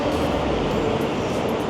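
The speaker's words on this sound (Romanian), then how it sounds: "Platforma 11 și trenul acum sosește, cam așa arată." High-speed train pulling into a platform at a large station in Wuhan, China, a loud, steady broadband rumble and rush filling the space, close and continuous with no voices.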